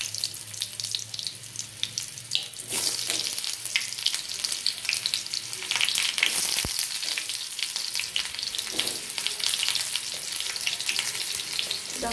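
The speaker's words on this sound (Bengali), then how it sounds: "দেখো পেঁয়াজটা একটু ভেজে নেবো আমি" Chopped onion frying in a small wok over a tempering of spices, with a steady, close, bright sizzle and crackle running unbroken throughout, alone with no voices.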